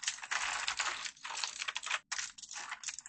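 Fast, dense clatter of a mechanical computer keyboard being typed on, a continuous close-up rattle of keystrokes with one brief pause, loud and alone without any voices.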